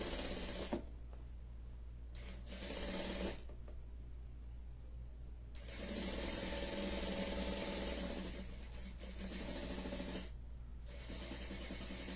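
Sewing machine stitching the side seams of a small pair of trousers, quiet steady mechanical whirring in several runs of a few seconds each, with brief pauses between them.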